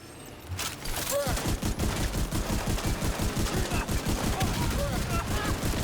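Mini tanks in a video game fire a continuous rapid burst of gunfire, loud and close, after a brief quieter lead-in.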